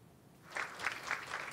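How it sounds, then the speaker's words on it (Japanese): City hall staff and the mayor clap to welcome a sumo wrestler, a soft, fairly distant patter of applause that swells after a quiet start and holds steady. "渡辺龍吾市長や職員に拍手で出迎えられた"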